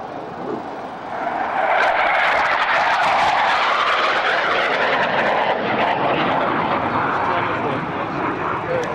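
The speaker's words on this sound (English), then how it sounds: "Hunter going at maximum throttle" A Hawker Hunter jet at maximum throttle over the North Weald airshow in 1999 builds into a loud, sustained roar that swells and holds steady as it passes, with a spectator speaking over it.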